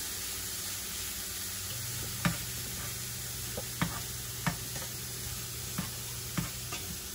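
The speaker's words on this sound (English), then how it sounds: "Transfer the pan fried cauliflower rice into the base mixture" Cauliflower rice frying in a pan while being turned and tossed, with a steady soft sizzle and a few sharp utensil taps and scrapes scattered through it.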